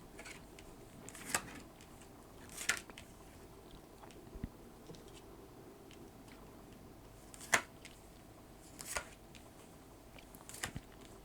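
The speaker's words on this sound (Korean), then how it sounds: "미리 뽑아둔 카드를 펼쳐보면서 리딩 시작하도록 할게요" Tarot cards are spread out for a reading: a handful of soft, close slaps and slides of card on a table, spaced several seconds apart over a quiet background.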